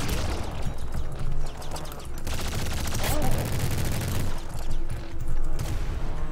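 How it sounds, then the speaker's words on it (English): Winding SMG firing in the video game Nuclear Throne, with dense rapid bursts of gunfire that fill the clip and alternate with heavier volleys, mixed with game effects. "Winding SMG."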